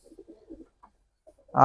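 Several soft pigeon coos sound in brief, murmuring bursts near the start, then a louder close pigeon call rises at the very end, from a flock of about thirty pet pigeons, including fancy breeds such as lakkha.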